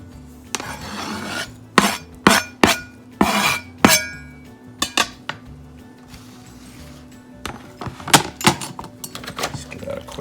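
Chopped tomato tipped from a board into a glass bowl, giving a run of sharp clinks and scraping rasps in irregular bursts, close and fairly loud, with a quieter pause midway.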